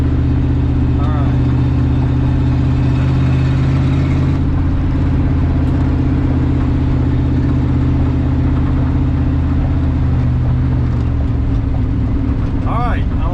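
A 1970 Ford F250 truck engine runs while driving, a loud steady low rumble dominating throughout with gear changes and no power steering, with someone speaking briefly over it.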